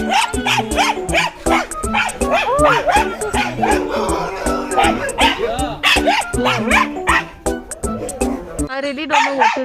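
Many dogs barking, yipping and whimpering together at a dog shelter, a dense, loud, continuous chorus of overlapping barks close by and at a distance.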